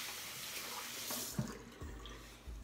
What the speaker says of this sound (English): So now I'm gonna rinse this off